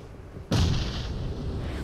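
A grenade blast in the Free Fire video game hits suddenly and loud, a single booming explosion that decays into a lingering crackle.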